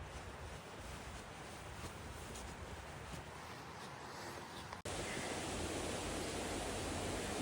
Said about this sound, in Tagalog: Waterfalls.